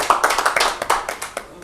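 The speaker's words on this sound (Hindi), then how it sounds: "तो एक बार जोरदार तालियां हो जाएंगी।" Audience at a Rajasthan Parishad gathering bursts into applause, a dense run of loud, close, rapid hand claps lasting under two seconds.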